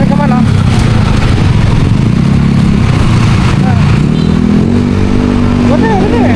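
A motorcycle engine runs loudly and steadily up close at a town plaza, droning throughout while people talk over it.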